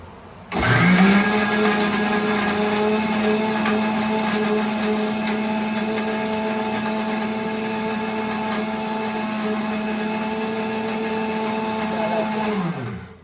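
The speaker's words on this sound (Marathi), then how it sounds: "बस मिक्सरला लावून घेऊयात आपण" An electric mixer grinder blending coriander chutney whirs loudly and steadily for about twelve seconds, a high motor whine with churning, then winds down; no talking.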